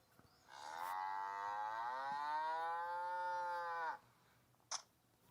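A single long, loud cow moo from a farm in a car-driving video game, drawn out for several seconds at close range, followed by a brief sharp click.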